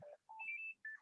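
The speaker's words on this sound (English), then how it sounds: "Hang on, that's my phone." A mobile phone gives a short electronic ringtone, a few clean stepped tones in quick succession, fairly quiet and alone.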